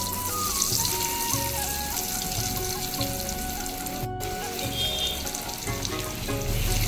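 Steady hiss and crackle of bread chicken rolls frying in hot oil in a wok on low flame, with faint watery spatter throughout and a brief dropout midway.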